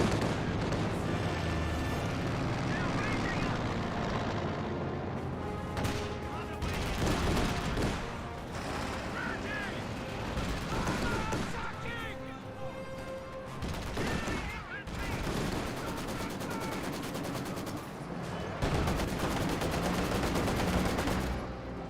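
Soviet strafing-run gunfire in the strategy game Company of Heroes 2: dense, sustained bursts of aircraft machine-gun fire and explosions rolling on and off over a constant battle din, fairly loud throughout.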